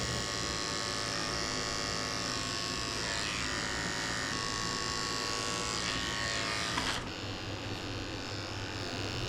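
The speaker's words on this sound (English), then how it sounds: "I'm shaving out underneath his feet with a 40 blade." Electric dog clippers fitted with a 40 blade buzz steadily as they shave the paw pads of a senior Shih Tzu mix, a continuous close hum that shifts pitch slightly midway.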